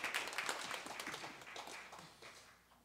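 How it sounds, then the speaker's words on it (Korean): Faint applause from a church congregation during a Sunday service, a scattered patter of clapping that thins and fades toward the end, heard at a distance with no talk over it. "박수로 감사하겠습니다."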